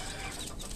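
Young desi chicks peep and chirp together in a brooding enclosure, a short busy burst of overlapping high calls at moderate volume with no talking.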